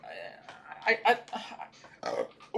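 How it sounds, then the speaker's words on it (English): A man burps during a livestream, close and fairly loud, a throaty, voiced eructation broken into several rough bursts over a couple of seconds. "that was a good burp right there"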